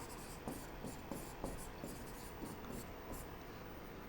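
A marker writes on a board during a Hindi-language English grammar lesson, making faint, quiet scratchy strokes that repeat in short bursts throughout, with no talking.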